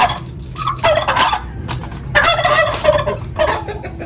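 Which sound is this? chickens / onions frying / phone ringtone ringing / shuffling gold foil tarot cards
chickens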